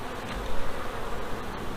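Honey bees buzz at a hive during an inspection, a dense close droning hum that swells and wavers slightly, with no voices.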